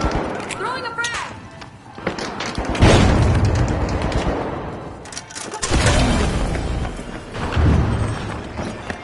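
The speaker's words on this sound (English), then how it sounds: "Throwing a frag!" A frag grenade goes off in the video game The Finals, one of several heavy booms and blasts among chaotic game noise, with voices talking over the action.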